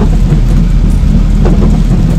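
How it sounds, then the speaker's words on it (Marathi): Heavy rain pounds steadily beside a truck on a highway trip from Bangalore to Mumbai, a dense continuous roar with low thunder rumbling underneath and no voices. "पावसानं घातलाय धिंगाणा"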